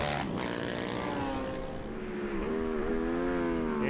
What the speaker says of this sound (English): the unmistakable sound of a Honda 250 leaving a start line